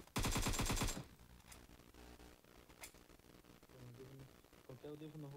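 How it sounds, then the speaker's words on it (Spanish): Gunfire in the video game GTA: a loud, dense burst of rapid automatic shots at the start, then scattered single reports over a game soundtrack with a low hum. "Escucho diferentes los disparos,"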